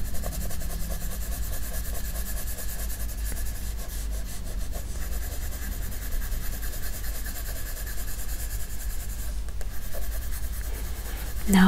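A graphite pencil shades clouds on paper, the lead held almost flat and rubbed in a continuous close, soft scratching rhythm of back-and-forth strokes, steady and alone without talk.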